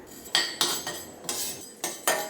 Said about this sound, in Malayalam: അതിന് വേണ്ടിയിട്ട് ഈ പാനിലേക്ക് നമുക്ക് ഉലുവ ചേർക്കാം